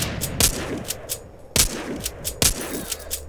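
Gunfire in the zombie shooter video game The Walking Zombie 2: several sharp, loud shots in irregular bursts, some in quick succession, with no speech.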